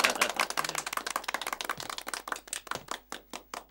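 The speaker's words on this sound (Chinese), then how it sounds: "鼓掌" A small group of people applauding in a room, brisk close hand claps that start dense and thin out into separate, slower claps toward the end, with no voices.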